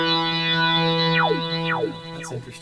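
A resonant synthesizer with the filter set high holds a sustained chord while a high note repeats, its bright resonant peak sweeping down twice, thick and buzzy throughout.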